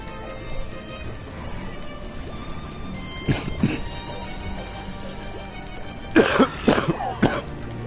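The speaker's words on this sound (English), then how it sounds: "Sorry about the coughing." A person coughs harshly nearby during LittleBigPlanet 3 play: a pair of coughs around the middle, then a louder cluster of three or four near the end, over a low, steady game background.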